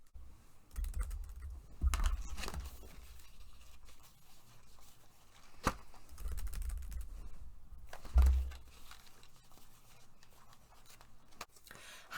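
Quiet clicking on a computer keyboard comes in short bursts of keystrokes with pauses between them, close and soft, with no talking.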